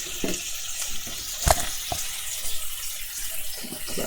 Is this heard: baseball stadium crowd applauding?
no